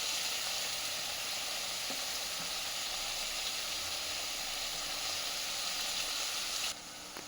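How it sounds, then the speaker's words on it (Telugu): Chopped fenugreek leaves (menthi kura) fry in a hot pan for a chutney, giving a steady, close, broadband sizzle and hiss that barely varies until it dips slightly near the end. "ఇలా వేగిన తర్వాత కొంచెం వెంటనే దీంట్లోకి మనం కట్ చేసి పెట్టుకున్న మెంతి కూర కూడా వేసుకోవాలండి."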